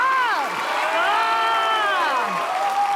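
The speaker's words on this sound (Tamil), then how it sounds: "ஒரு பெரிய கை தட்டலோட லெட்ஸ் வெல்கம்" Applause and cheering from a TV studio audience on a Tamil music game show, with whoops and voices mixed into the clapping throughout.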